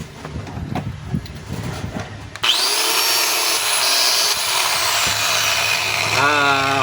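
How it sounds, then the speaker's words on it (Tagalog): A DeWalt DWE8200S 4-inch angle grinder that smells of burning and seems to labour is switched on after a rustle of handling, then runs at a loud, steady high whine for several seconds before the pitch wavers near the end. "Ito po yung D4 na grinder ng DeWalt mga kabay. So yan, sasaksak po natin."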